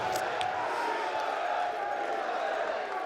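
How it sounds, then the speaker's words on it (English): An excited crowd fills an esports venue in London during a Counter-Strike match, a steady wash of chatter and cheering that stays loud and even, with a few brief sharper bursts rising near the start. "Lots of noise in the room."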